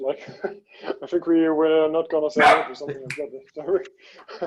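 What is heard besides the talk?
dog barking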